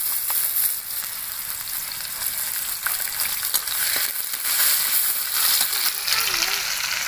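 Chopped garlic sizzles and fries steadily in hot oil for a Bengali drumstick-flower fry, a loud, continuous crackling hiss with occasional stirring scrapes, no voices.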